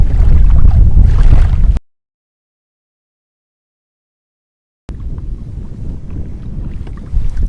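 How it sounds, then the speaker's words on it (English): Strong wind roars and buffets the microphone in a dense low rumble on the water during a kayak fishing tournament on the Lower Delta, cut by a few seconds of total silence before the gusts return. "The wind is absolutely howling."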